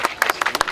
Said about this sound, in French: Tonton Nassor, applaudissez s'il vous plaît.